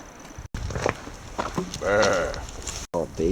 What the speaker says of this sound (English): Couple young goats.